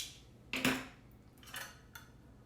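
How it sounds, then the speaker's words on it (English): Metal measuring spoons clink and rattle in a kitchen, with a couple of sharp close taps and then lighter jingles, fairly quiet and with no one talking. "Gonna need some measuring spoons"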